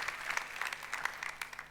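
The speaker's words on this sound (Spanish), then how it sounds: "Un aplauso para Goldman, que nos quitó este problema de encima" A brief burst of applause from a small crowd, clapping fairly quietly for under two seconds.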